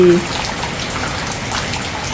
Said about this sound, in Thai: บรรยากาศฝนตกค่ะ